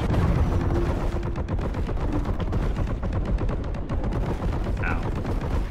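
Sustained rapid gunfire from an infinite-ammo weapon in Warhammer 40,000: Boltgun, a dense, loud, continuous stream of shots across the whole stretch, with game sounds layered beneath.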